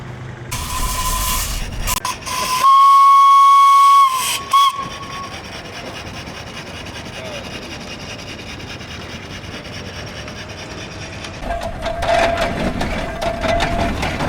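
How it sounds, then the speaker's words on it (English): An antique steam engine at an agricultural antique show gives a loud, steady whistle blast lasting a couple of seconds, then a brief second toot, with continuous steam hissing and mechanical rubbing underneath and a rising hiss near the end. "Or this is the only steam engine out here, but here's some footage of it."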